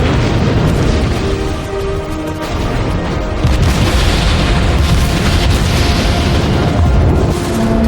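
Naval battle explosions from the game World of Warships roll continuously, a dense, loud wall of booms and rumbling blasts with no break throughout.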